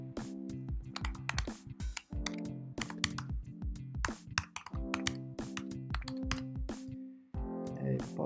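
Someone types on a computer keyboard to sign in to Zoom, giving rapid, irregular clicking keystrokes in quick bursts, close and fairly quiet, with a short pause near the end.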